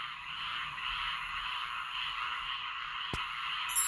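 A steady chorus of frogs croaking continuously, dense and moderately loud, with one sharp click near the end and no voices.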